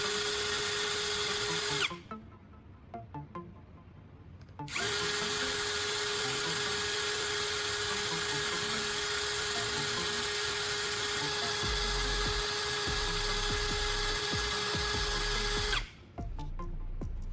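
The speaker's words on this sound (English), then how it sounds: "I'll gently press the cutting edge against the spinning wooden dowel on the drill at a consistent angle" A power drill spinning a wooden dowel whines at a steady high pitch for long stretches, stopping briefly twice, with a faint grinding rasp as a pruning shear blade's cutting edge is pressed against it.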